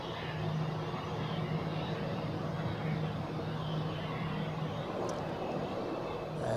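Turkish Airlines airliner taking off on runway 28 at Zurich Airport, a steady broad engine roar heard from a distance, with a faint voice underneath.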